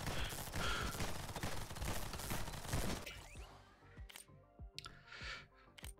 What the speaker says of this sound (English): Keep shooting him.